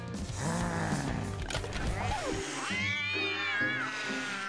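Cartoonish cat meowing from a character in the horror game Poppy Playtime Chapter 3, a run of drawn-out, pitch-bending meows and caterwauls that is loud and close, with mixed game sounds.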